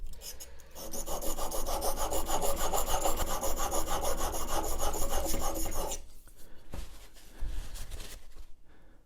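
A chisel blade clamped in a honing guide is pushed back and forth on a sharpening stone to raise a burr, a loud close rhythmic rasping scrape that stops after six seconds, then some handling noise.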